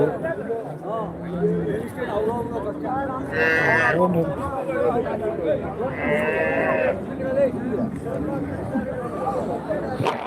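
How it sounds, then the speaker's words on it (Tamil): Cattle moo a few times amid a busy crowd at the Chinthamani cattle market, loud lowing calls rising over constant chatter and voices nearby. "மாடு கன்று"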